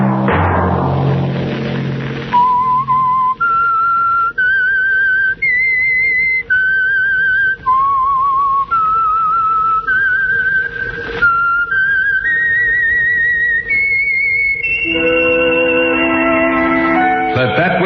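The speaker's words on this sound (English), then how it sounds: "Let that whistle be your signal for the Signal Oil program, The Whistler" The whistled theme of The Whistler radio program plays as a slow, eerie melody of sustained, stepwise notes, loud and clear, with low orchestral backing that swells at the end.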